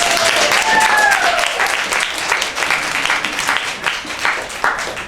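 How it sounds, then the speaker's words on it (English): A round of audience applause for a first-time singer at an entertainment show, loud at first with a brief whistle, then thinning and uneven toward the end. "let's give her another round of applause"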